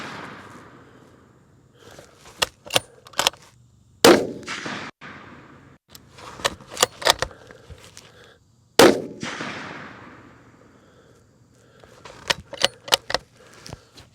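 A Browning X-Bolt 6.8 Western rifle fired outdoors, two loud sharp shots with rolling decay several seconds apart, amid clicking bolt and handling noises.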